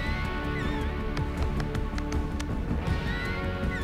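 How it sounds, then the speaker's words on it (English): A cartoonish, donkey-like braying emote from the Fortnite video game plays close and loud as a warbling, harmonic hee-haw, layered over busy game background sound for a few seconds. "it sounds like the donkey thing"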